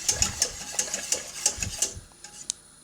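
A utensil stirs thick, pudding-like cake batter in a bowl, giving repeated quick rhythmic clicks and scrapes for about two seconds before tapering into quieter scattered taps.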